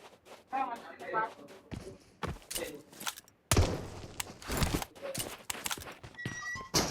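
Footsteps on an upper floor in the PUBG video game on the Miramar map, irregular thuds and clip-clop-like steps mixed with game noise, while players talk over them.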